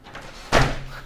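A door thuds shut with a sharp, loud slam and a brief low rumble of reverberation after it, a single isolated impact.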